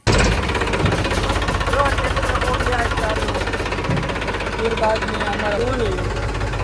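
A tractor engine runs steadily up close in a rainy rural setting, giving a loud, continuous low knocking rumble throughout while people talk over it.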